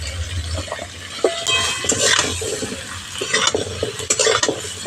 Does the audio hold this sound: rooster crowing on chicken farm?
no